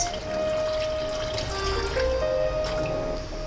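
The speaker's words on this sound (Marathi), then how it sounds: "त्यामध्ये मी पाणी ॲड करते, साधारणतः 2 ग्लास" Water poured from a glass into half a litre of curd in a pot to make buttermilk, a steady trickling pour that runs close and continuous for a few seconds with no voices.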